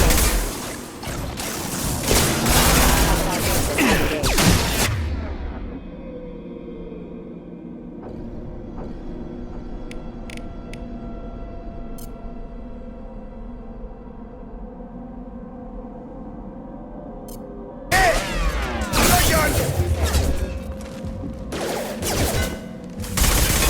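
Dense, loud volleys of gunfire against hostile mechs in Mass Effect 2 rattle at the start and return near the end, with a quieter stretch of low mechanical hum and faint clicks in between.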